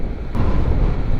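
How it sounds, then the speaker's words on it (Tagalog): Strong wind buffeting the microphone during an e-scooter ride at a Danish port, a brief steady low roar and rumble with no talk. "Yung lakas ng hangin"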